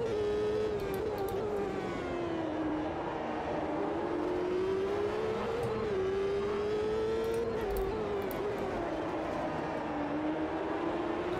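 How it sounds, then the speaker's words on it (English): Race cars in the sim racing game Automobilista 2 scream past around Watkins Glen, a steady high engine whine rising and falling as they go by, loud and continuous with no voices. "Oh, just listen to the cars as they fly past."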